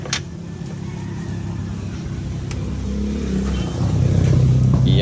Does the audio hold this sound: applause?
no